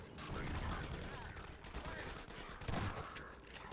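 Shotgun fire in Half-Life 2 Episode One, with repeated blasts amid chaotic combat noise, heard faintly and set well back in the mix.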